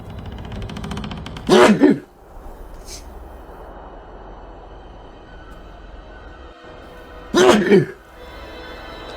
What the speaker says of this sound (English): I feel like I'm going to sneeze again.